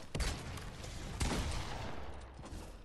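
Shotgun fire in a Fortnite Battle Royale squads match: two heavy, close blasts, one near the start and a louder one just past a second in, over a dense rattle of further gunfire and rumbling noise.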